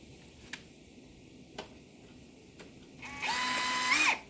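A power screwdriver loosens a screw during assembly of a Hampton Bay Woodford patio set: a few sparse clicks, then a short, loud whirring burst of the motor near the end, with no talking.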